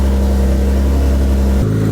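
A car engine with an exhaust leak idles steadily with a low, rough, puttering drone and an uneven raspy edge, close up, with the pitch dropping slightly near the end.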